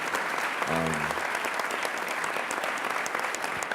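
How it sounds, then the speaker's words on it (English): An audience at a prison reform summit breaks into steady applause, dense clapping that fills the room throughout, with a brief voice heard near the start. "give her applause for her courage in trying to bring this forward"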